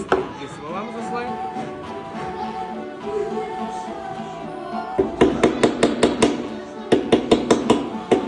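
Sharp repeated punching knocks ring out as a hole is pierced while making a lyanga, a run of loud rhythmic strikes in two bursts following a stretch of quieter handling and faint background noise.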